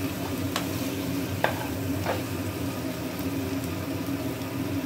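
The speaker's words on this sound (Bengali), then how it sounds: "মশলাটা কষা" Spice paste for a broccoli and potato curry is stir-fried in a pan, giving a continuous close sizzle with occasional scraping strokes of a spatula, and no talk.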